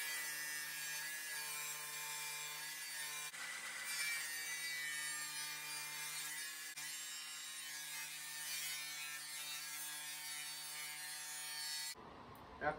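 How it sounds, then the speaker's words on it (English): A power saw rips wooden boards into narrow strips for a beehive slatted rack, a sustained whining cut in several long passes with brief pauses between boards, ending abruptly. "I'm going to rip these down to 2 1/4 inch pieces"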